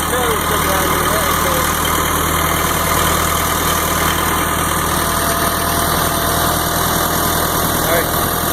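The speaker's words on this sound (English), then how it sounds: "My first time driving a tractor up a regular crazy steep hill." A tractor engine labours up a steep hill, producing a loud, continuous, close rumbling drone with steady vibration throughout.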